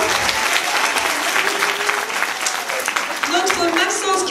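A crowd at the end of a children's Christmas tale stage show applauds a young performer loudly and steadily, with scattered cheers and voices mixed into the clapping.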